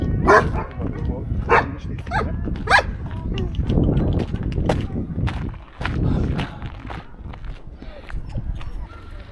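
Several dogs bark at a dog gathering outdoors, short yaps and barks scattered throughout, some near and some farther off, with background chatter and other noise mixed in.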